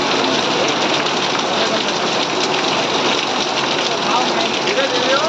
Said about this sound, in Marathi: खूप जोरात असा पाऊस लागलेला आहे इकडे.